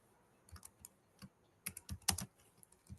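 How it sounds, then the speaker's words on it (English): Quick, uneven keystrokes on a computer keyboard, clicking in short bursts and single taps at close range, with no talking. "You are typing Amazon.com."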